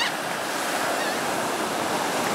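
Atlantic ocean surf and breaking waves heard from a kayak, a loud, steady wash of water with no talk.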